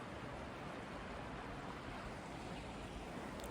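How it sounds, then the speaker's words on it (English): Water washing against the shore at a state park beach, a steady broadband rush of surf and wind with no distinct breaks, continuous and fairly soft throughout. "that sound of the water is quite something"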